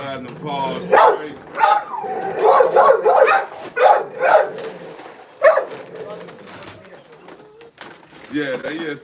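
Dogs barking and jumping at a door, heard close as a run of loud, irregular barks and yelps mixed with thumps, while people talk over and between them.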